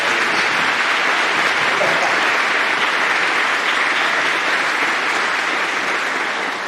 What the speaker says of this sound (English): Let's give Audrey another nice round of applause.